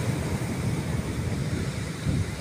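Ocean waves crash on a shore in a steady, close wash of surf, dense and unbroken, swelling slightly toward the end.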